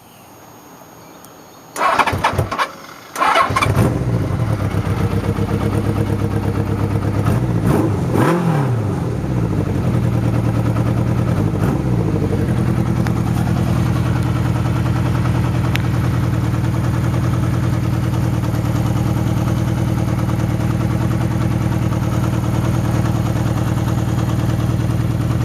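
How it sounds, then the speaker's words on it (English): A 1981 Honda CB650 Custom motorcycle with a freshly replaced head gasket cranks, catches after a couple of tries and settles into a steady, loud, even idle that runs on alone. "Fire her up."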